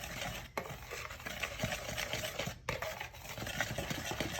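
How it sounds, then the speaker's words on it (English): Dry baking ingredients, cream of tartar, baking soda and salt, whisked together in a bowl for mocha cookies, giving a steady close scraping, tapping rhythm with a couple of brief pauses. "All right, whisk together."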